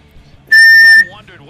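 A single loud, sharp referee whistle blast lasting about half a second during an NHL hockey game between the Toronto Maple Leafs and Montreal Canadiens, followed by crowd and arena noise.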